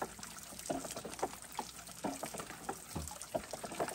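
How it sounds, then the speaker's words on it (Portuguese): Wooden water wheel turning on a rural plot, fed by a thin stream of water from a bamboo spout, giving soft, uneven trickling and splashing with faint knocks at irregular intervals, close by and without speech. "Esse barulho dessa roda d'água."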